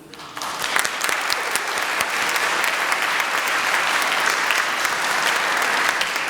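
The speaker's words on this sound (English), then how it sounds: "We would like to give a round of applause to Dr. Yates." Audience at a university convocation breaking into applause for an honoree, a sustained, even roar of many hands clapping that starts abruptly and holds steady to the end.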